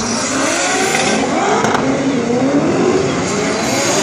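Drift cars at the Falken Drift Show in Luxembourg, 2014, a loud, continuous engine roar with rising revs and tire squeal, heard close and alone.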